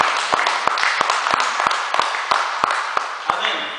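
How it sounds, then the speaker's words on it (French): A church congregation claps and applauds in rhythmic unison, sharp regular claps ringing out over a bed of crowd noise and voices throughout. "Est-ce que tu peux acclamer le Seigneur pour cela?"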